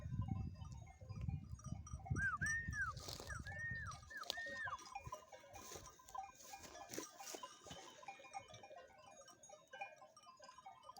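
Faint sheep bleats sound from a distance over a quiet mountain outdoor background with light rustling and scattered small noises; no talking.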